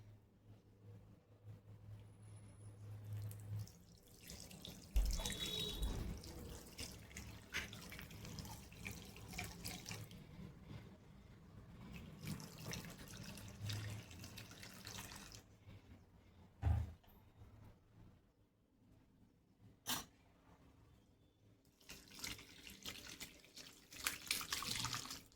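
Whey from homemade paneer curds strained through a cotton cloth set over a sieve, heard as a steady close pour and trickle of liquid that rises and fades, then turns to a few scattered drips.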